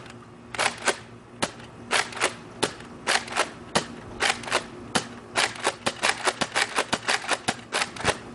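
A Nerf Recon MK2 toy blaster fires foam darts flat in a quick series of sharp snapping shots, each a crisp pop with irregular gaps between them, close and fairly loud with no talking.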